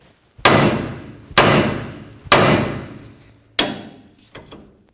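Hammer striking the steering knuckle of a 2002-09 Dodge RAM 1500 to free the tie rod, four sharp metallic bonks about a second apart, each ringing briefly, then a fainter fifth tap.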